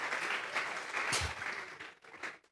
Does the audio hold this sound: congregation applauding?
yes